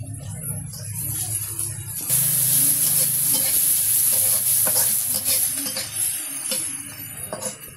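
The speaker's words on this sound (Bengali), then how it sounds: "পেঁয়াজ কাঁচামরিচ দিয়ে দিতেছে কড়াইয়ে" Onions and green chillies dropped into hot oil in a wok after fish frying, a loud sudden sizzle bursting in partway and continuing with stirring scrapes and clinks.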